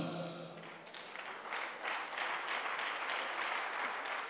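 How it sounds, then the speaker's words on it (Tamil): An audience at a Christian church alumni testimony gathering breaks into applause, steady and fairly faint, with dense clapping that grows a little fuller as it continues. "இப்பமே கைத்தட்டிடுறாங்க"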